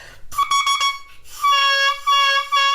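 An over-scraped oboe reed is played on its own, first with a few short buzzy squawks, then a sustained reedy crow that breaks off and starts again, close and fairly loud.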